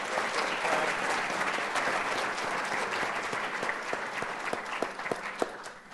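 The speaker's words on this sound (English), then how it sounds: "Can we get one last round of applause for all of the 8 pitching teams?" An audience at a pitch competition claps in a steady, full round of applause that holds throughout, moderately distant, with no talking over it.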